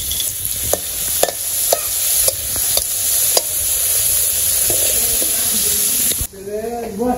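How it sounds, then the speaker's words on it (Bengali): Potatoes seasoned with salt and turmeric fry in a pan with a close, steady sizzle and sharp spatula clicks. The sizzle drops away near the end as a voice begins speaking. "আলু ভেজে নিই"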